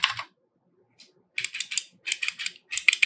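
Cherry MX Blue switches fitted in arcade cabinet buttons, pressed in sharp clicky bursts: one quick cluster, a pause, then several rapid trains of crisp clicks up close.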